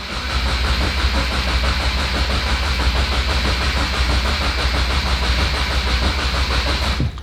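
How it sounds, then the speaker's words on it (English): A 2022 Subaru WRX with a Perrin oil cooler fitted cranks hard with the clutch in and throttle held fully open, a loud, close and unbroken mechanical whir lasting several seconds. "clutch all the way in, and we're just gonna crank it."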